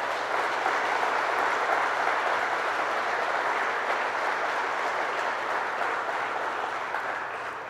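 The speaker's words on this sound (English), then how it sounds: "So let's give the whole team a real round of applause." A crowd applauds steadily for a project team at an announcement event for completed restoration work on the Hugh L. Carey tunnel, a dense, even wash of clapping holding loud throughout before easing slightly at the end.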